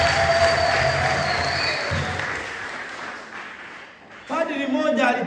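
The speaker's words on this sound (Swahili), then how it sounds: "Naomba tupige Mungu makofi" A church congregation claps for God during a sermon, with broad applause under a preacher's voice that fades before a fresh burst of clapping near the end.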